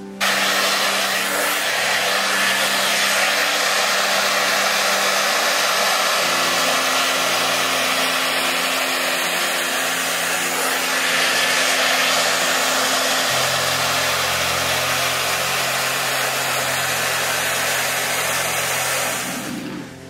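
A hair dryer blows continuously on freshly bleached hair during a balayage color session in a salon, a loud steady whoosh whose pitch shifts a couple of times as the setting or angle changes, with no voices.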